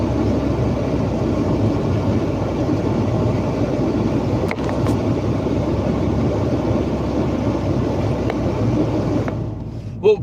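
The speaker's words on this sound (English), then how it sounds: "Let's turn the blower on a bit." Steady broadband whoosh of a milk van's heater blower fan running while driving, a constant close roar with road and engine rumble mixed in, no talking, easing off briefly at the very end.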